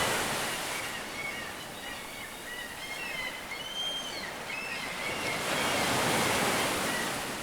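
Ocean waves wash steadily onto a beach in a continuous broadband roar, with a soft swell that builds toward the end and a light hiss of wind underneath. No voices are heard.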